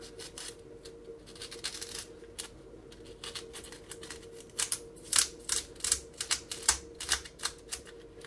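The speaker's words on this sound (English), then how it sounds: "I'm gonna cut it a little bit deeper." A blade cutting into a foam part of a TBS Caipirinha FPV wing, heard as close, irregular scraping and snipping clicks that grow louder and more rapid in the second half, with no talking.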